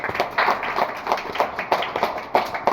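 An audience at a Shiva temple darshan gathering claps hands together in a loose rhythmic pattern of distinct, fairly close beats, slightly uneven and continuing without talk.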